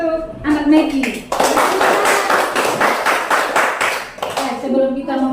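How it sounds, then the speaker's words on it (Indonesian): Classroom applause for a pupil breaks out between spoken words, a few seconds of brisk, close hand clapping from a group, with a voice talking before and after. "tepuk tangan untuk anak Meki"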